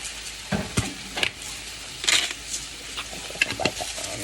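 A spatula stirs a sizzling tofu scramble in a frying pan, giving irregular scrapes and clicks over a soft, steady frying hiss, close and moderately loud, with no talking.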